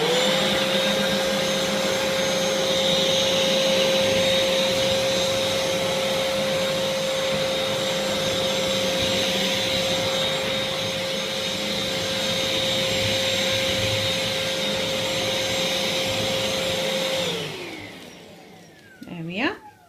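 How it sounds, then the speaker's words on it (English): A Vax Blade 32V cordless vacuum cleaner sucks up spilled flour with a loud, steady motor whine that holds for many seconds, then winds down and cuts off near the end. "I'll just hoover up the flour just to show you how well it works"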